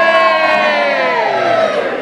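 A crowd at a live gig in a small Newcastle music venue cheers and shouts loudly, a dense wash of voices that swells and holds throughout.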